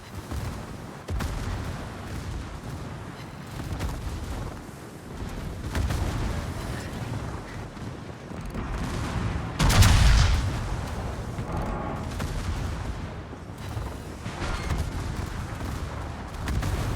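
Naval artillery fires in the World of Warships video game, with heavy booming shots rumbling over steady battle noise and one especially loud blast near the middle.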